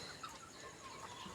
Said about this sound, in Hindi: हमारी मुर्गियों के उठने का टाइम हो गया